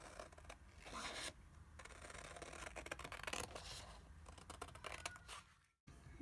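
Scissors cut out printed paper pages for a fall folio kit, close crisp snipping and rustling paper in a continuous run, ending abruptly.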